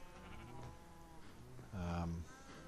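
A sheep bleats once in Minecraft with the Tekkit modpack, a short nasal cry close by, heard under someone talking over a low background of game sounds.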